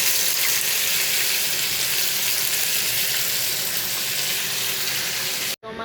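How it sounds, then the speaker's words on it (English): Onions and tomatoes fry in a pot with a steady, bright hiss that holds evenly at a fairly loud level, then cuts off abruptly near the end. "I'll fry some onions until they are ready."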